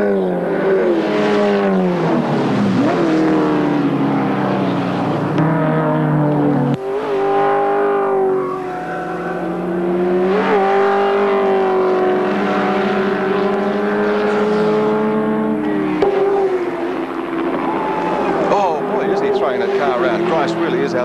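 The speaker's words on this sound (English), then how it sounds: "There's Allan Grice on the ReCar Commodore" A 1982 Holden Commodore Group C race car at Bathurst, its engine howling past with rising and falling pitch as it accelerates and shifts, heard under continuous race commentary.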